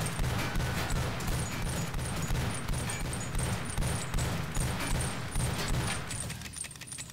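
Steady pistol fire and clattering shots run through a VR ninja game set in a Matrix-style world, a continuous moderate-level barrage with scattered sharp cracks and no talking.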